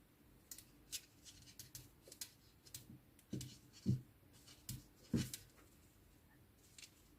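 Scissors snip crochet yarn in a few quiet, close cuts scattered across a faint background, with small handling clicks between them and no speech.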